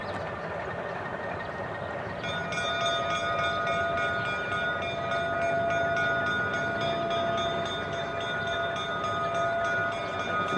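A New Jersey Transit railroad car at a railway museum rumbles past close by, with a steady rolling drone and sustained high metallic squeal and ringing tones from the wheels that swell partway through.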